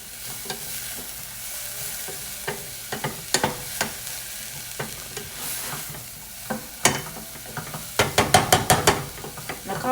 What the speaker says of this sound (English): We are waiting for this cauliflower to cook through